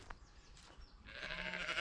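Sheep bleat in a grassy field, a single faint call followed by a longer, louder bleat at a moderate distance, with no talking.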